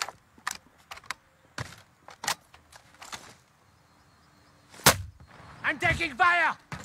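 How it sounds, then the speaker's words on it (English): Video game gunfire crackles as short sharp bursts and single shots, scattered and fairly close, with a few keyboard-like clicks and a brief voice at the end. "I'm taking fire!"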